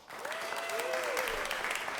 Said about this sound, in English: by round of applause, how many people have never been here before?